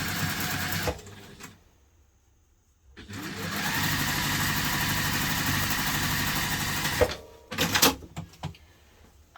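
A sewing machine stitches a seam on a hipster bag, running in a steady whirring burst for several seconds after a brief start and pause, then stopping amid a few clunks and handling sounds.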